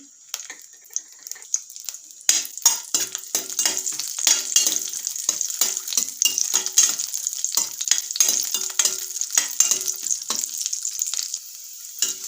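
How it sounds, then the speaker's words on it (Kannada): Dry fruits frying in a couple of spoonfuls of ghee in a kadai, a bright continuous sizzle broken by repeated clinks and scrapes of stirring, close and steady with no talk. "ಇವಾಗ ಡ್ರೈ ಫ್ರೂಟ್ಸನ್ನು ಚೆನ್ನಾಗಿ ಫ್ರೈ ಮಾಡ್ಕೊತಾ ಇದ್ದೀನಿ"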